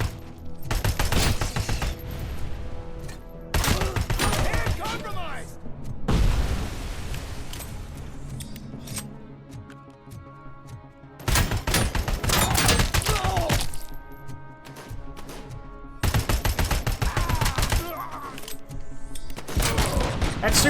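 Rifle gunfire in the RoboCop Rogue City video game crackles in dense, loud bursts broken by quieter gaps, with crashes and impacts mixed in.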